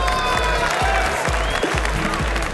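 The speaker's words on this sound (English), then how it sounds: "Give a big cheer for Dennis as well" A crowd at an esports event at IEM Cologne during Gamescom 2011 claps and cheers for a former SK player, a continuous roar of applause over a thumping low rhythmic beat from the venue sound.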